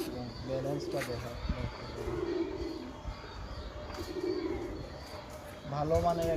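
A Kittel pigeon coos in soft, repeated low rolling calls, close by, while someone talks over them throughout.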